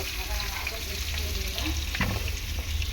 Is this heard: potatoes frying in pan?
yes